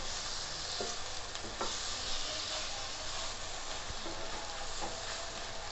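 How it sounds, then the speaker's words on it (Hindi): Diced tomatoes and bitter gourd sizzle steadily in a frying pan, with a few soft scrapes of stirring over a continuous hiss. No one speaks. "ये मैं इसमें ऐड कर दूंगी और इनको थोड़ा सा मैं मिक्स करूंगी"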